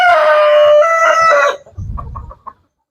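A rooster crows loudly and close, one long drawn-out call, followed by a few short, low clucks from backyard chickens before the sound stops.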